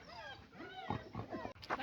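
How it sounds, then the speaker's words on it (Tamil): Dogs whine and yip close by near a train, with rising and falling high-pitched whimpers followed by a few sharper yelps. "அதுலேயும் இன்னொரு நாய்கள் வருது"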